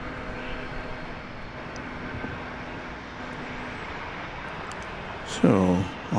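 An airliner departs DFW airport for Louisville, its engines a steady distant roar under faint background noise, with a louder burst of nearby sound near the end.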